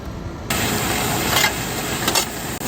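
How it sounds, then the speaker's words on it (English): A steady mechanical rattle and rumble of a seed drill sowing beans close by, seeds rattling down the tubes, with brief scraping surges, continuous throughout. "Here the seeds coming down the tubes, rattling through."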